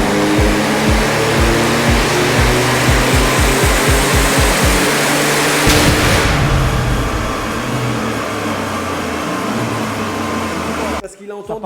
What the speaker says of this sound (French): on entend tellement bien le moteur là-dessus